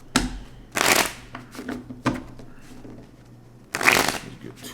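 Two loud riffle shuffles of a tarot card deck, with lighter card handling and taps in between, close to the listener.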